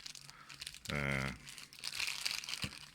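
A resealable plastic bag holding a telescope eyepiece is pulled open, giving a short crinkling rustle and a brief tearing rasp of the seal, close and fairly quiet in a calm room.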